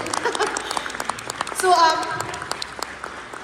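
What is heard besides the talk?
applause for the translators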